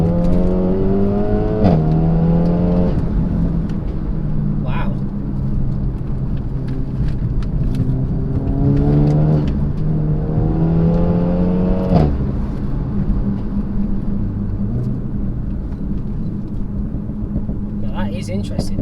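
A turbocharged Renault Megane engine fitted with a turbo inlet adapter revs repeatedly in short bursts, pitch sweeping up and dropping back, over a steady rumbling idle with wind-like noise close to the mic.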